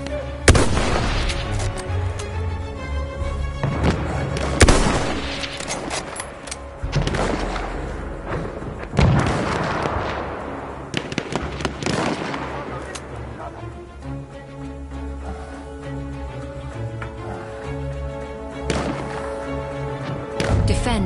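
Heavy artillery barrage in Battlefield 1 during a multiplayer battle: repeated loud booming blasts and thuds at irregular intervals over a constant roar of battle and tonal in-game music.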